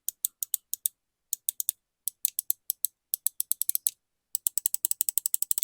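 Buttons on an Xtrfy M4 wireless ergonomic gaming mouse click in bursts of sharp, high, snappy clicks, some quick in succession and some spaced apart, close and alone with no talking.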